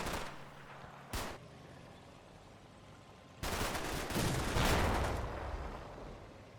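Gunfire and tank fire from a British infantry company's lead platoons and supporting Churchill infantry tanks engaging German forward positions in the video game Combat Mission: a brief burst near one second, then a sustained, building volley of shots.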